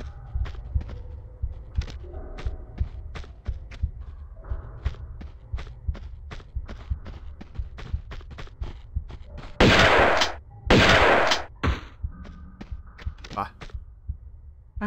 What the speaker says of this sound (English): Pull out the shotgun.